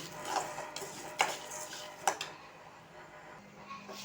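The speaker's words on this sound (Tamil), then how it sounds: "கருப்பு உளுந்தையும் போட்டு நல்லா செவர வறுத்துக்கணும்." Chana dal and black urad dal dry roasting in a pan, with soft scattered clicks and a few sharper scrapes of stirring against a faint low background.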